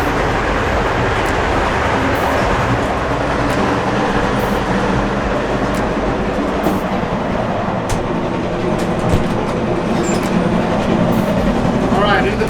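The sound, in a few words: inside a moving sleeper train in Egypt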